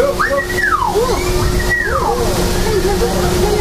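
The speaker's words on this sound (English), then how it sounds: "They're called whistling ducks. They whistle instead of quack." Whistling ducks near a river give high, sliding whistles in rising and falling swoops, over a constant rush of flowing water, while a person talks.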